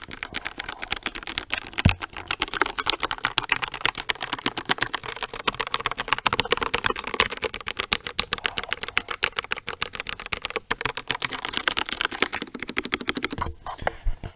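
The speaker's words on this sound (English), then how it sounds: "let's do a quick listen around the keyboard." Continuous typing on a ProtoArc R100 keyboard, a steady stream of fairly quiet, dense key clicks close to the mic for the whole stretch, with no talking over it.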